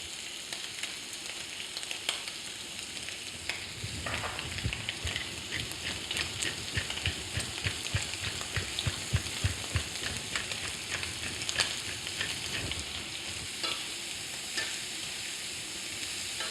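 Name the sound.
prawns frying in a pan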